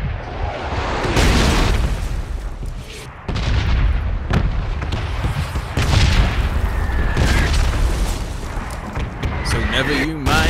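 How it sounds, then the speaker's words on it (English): Artillery bombardment in PUBG at a flooded village, heavy booming explosions landing one after another, loud and near, with a voice talking over the blasts. "Artillery!"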